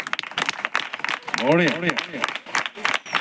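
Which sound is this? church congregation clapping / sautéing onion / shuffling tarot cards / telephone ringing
church congregation clapping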